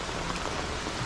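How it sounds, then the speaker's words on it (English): Steady rain coming down harder onto a road in Jamaica, a dense, constant hiss of drops pattering on the wet surface, close and fairly loud with no voices. "it's rained a little harder. See, the water's coming down"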